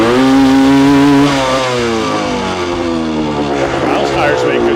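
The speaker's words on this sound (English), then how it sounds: "That bike just started on like the third kick" A used motorcycle engine fires up after kick-starting and revs loudly and harshly up close, its pitch rising and then settling into a rough, throbbing idle that continues to the end.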